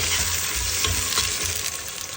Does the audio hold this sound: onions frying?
yes